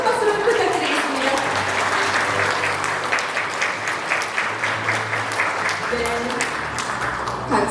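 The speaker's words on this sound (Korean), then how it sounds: "다시 한번 큰 박수로 부탁드리겠습니다." Audience applause at a formal civic event in Korea: a dense, steady round of clapping from a sizable crowd lasting several seconds.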